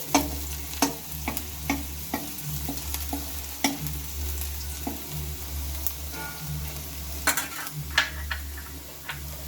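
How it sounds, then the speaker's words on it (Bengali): Onion frying in a pan for a drumstick-leaf chop, a steady close sizzle with repeated sharp scrapes and knocks of a spatula stirring against the pan throughout. "বন্ধুরা পেঁয়াজটা আমি অল্প একটু ভেজে নিয়েছি দেখো এই যে এবার পেঁয়াজটাকে আমি সাইড করে নেবো"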